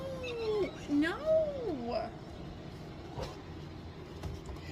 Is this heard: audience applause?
no